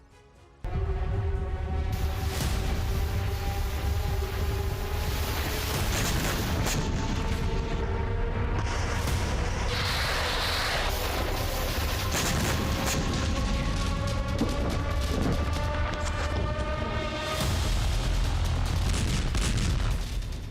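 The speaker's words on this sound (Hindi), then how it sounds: "पुतिन ने खार्किव में जबरदस्त बमबारी की" Artillery bombardment and explosions in Kharkiv, heard as a continuous loud barrage of booms and rumbling blasts with layered tonal wailing, sustained for about twenty seconds without talk.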